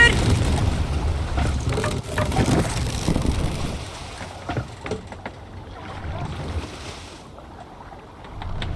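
Longship under sail in Assassin's Creed Valhalla, with water rushing and sloshing against the hull and wind buffeting steadily, loud at first and then easing to a quieter wash.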